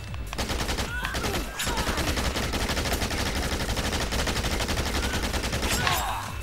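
Rapid automatic fire from the Merc Assault Rifle in Dead Rising 2 on PS3, dense, loud and continuous bursts of gunshots running almost the whole time with only a brief break.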